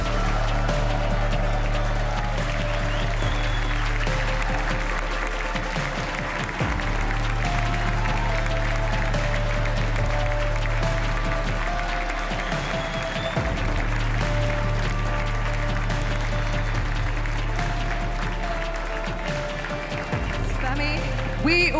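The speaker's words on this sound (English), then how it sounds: "Arena, let me hear your roar for Spammy!" A large arena crowd at a Red Bull Faster grand final roars and applauds in a dense, sustained wall of cheering, with a low steady hum running beneath it.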